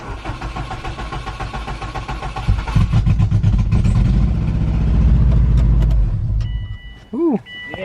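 A Subaru WRX engine cranks and fires for its first start after an engine swap, then revs loud and close before settling, with a whining squeal near the end.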